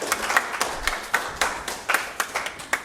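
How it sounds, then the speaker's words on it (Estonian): Audience at a university ceremony claps in a quick, uneven patter of individual hand claps, fairly close and brief, with no voices over it. "kus aplausi"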